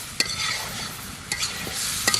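Chicken frying in a pan for village-style chicken kosha, a loud close continuous sizzle with three or four sharp stirring scrapes spaced through it.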